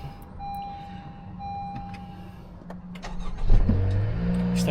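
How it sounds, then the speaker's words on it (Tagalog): A car engine is started in a home garage, its starter cranking then catching into a steady, close idle rumble that stays on to the end, with no talk. "start muna natin yung kotse siyempre."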